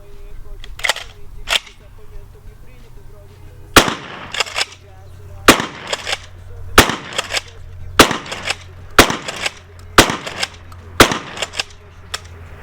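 A KelTec KS7 pump shotgun fires about ten loud, sharp blasts in a steady rhythm roughly a second apart, with mechanical clacks of cycling between shots and brief voices in the background.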